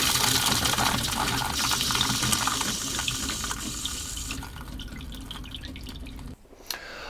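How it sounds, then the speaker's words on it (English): An RV water pump runs while water rushes and splashes from an open faucet into a sink, loud at first and then tapering, with the flow cutting off near the end and a few drips after. "turning the water pump on, whether it's via a switch or your Firefly, and then allow the water pump to flow for a little bit until no water will come out"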